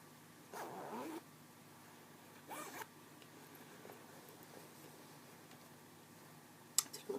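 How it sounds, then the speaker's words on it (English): Two quick zipper pulls on the back zipper of a cheer uniform, brief raspy zips close to the microphone, separated by quiet room tone, followed later by a few faint clicks. "And of course there's a zipper in the back."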